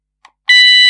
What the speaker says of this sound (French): comment on initialise la sirène d'alarme ou une sirène intérieure?